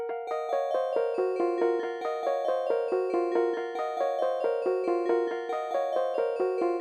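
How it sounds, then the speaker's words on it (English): A 2x Pluck Roads synth pluck preset from the Zonology kit, repeated rapidly note after note while stepping down the scale, producing bright, steady, evenly spaced plucks with no voices. "this one is called 2x Pluck Roads. This is just spammed over and over again. I just worked my way down the scale."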